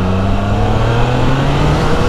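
A Triumph Trident 660 three-cylinder motorcycle accelerates hard, its engine note loud, close and continuous, with a steady rising drone and no talking.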